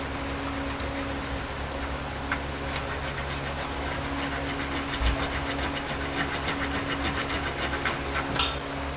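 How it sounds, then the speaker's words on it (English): A tube brush scrubbing out the weld nuts for a trailer hitch receiver on a 2017 Buick Enclave, a continuous close-up rasping scrape with a fast rhythmic texture that runs through the whole stretch. "Then I'm going to come back with a tube brush to clean it all out."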